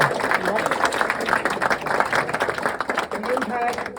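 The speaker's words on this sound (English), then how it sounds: "Let's give Loaves and Fishes another round of applause." An audience claps for the Loaves and Fishes nonprofit at its 15th anniversary gathering, a busy patter of hands that continues steadily while a voice talks over it.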